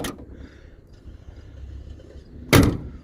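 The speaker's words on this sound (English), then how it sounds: "Listen how them doors close." A Ford car door at a junkyard shuts with one solid thud after a quieter click at the start, close by against low outdoor rumble.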